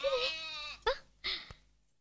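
A young goat kid bleats three times, nearby and fairly quiet: first a long wavering cry, then two shorter bleats with brief gaps between them.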